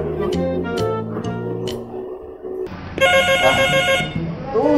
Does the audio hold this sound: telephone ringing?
yes